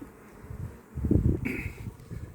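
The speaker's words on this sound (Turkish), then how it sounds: "Hep arılar bak." A dense buzzing of honey bees close up at a beehive, swelling briefly louder midway, with no talking.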